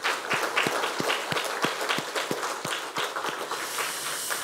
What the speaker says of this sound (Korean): 우리 하나님께 한번 감사와 영광의 박수를 한번 올리겠습니다